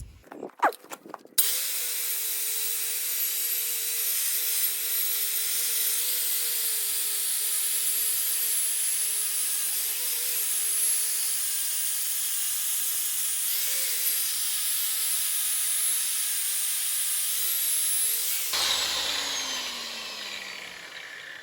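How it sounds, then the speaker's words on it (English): A big, slower-spinning angle grinder with a wire bristle brush works steadily across a large anvil, a continuous even whine and scrub that runs alone for about twenty seconds after a few short bursts at the start. "So that's the reason why I use the big grinder, just because it spins slightly slower, so I don't get shocked"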